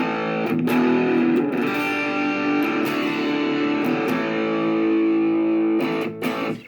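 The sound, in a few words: electric guitar through distortion pedal, half gain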